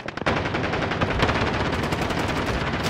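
Loud, dense automatic gunfire in Call of Duty Warzone, a rapid continuous burst of close shots after a brief stutter, filling the whole moment with no speech.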